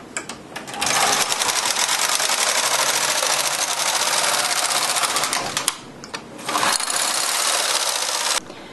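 A knitting machine with a ribber carriage knits rows of a ribbed baby blanket, giving a loud, steady mechanical whirring rattle that runs almost continuously, with one brief pause near the end of the pass.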